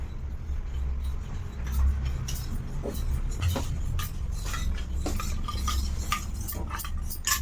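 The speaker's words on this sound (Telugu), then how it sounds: "ఒక టూ స్పూన్స్ తీసుకొని ఇదిలో వాటర్లో మిక్స్ చేసుకుంటున్నాను" A spoon stirs cornflour into water for carrot kheer, giving a fast, steady run of light clinks and scrapes against the container over a constant low background hum.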